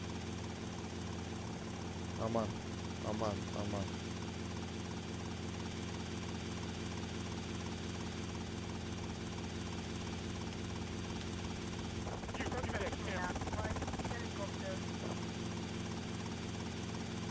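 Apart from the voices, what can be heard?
helicopter flying in video game GTA Vice City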